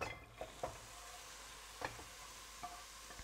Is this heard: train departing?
no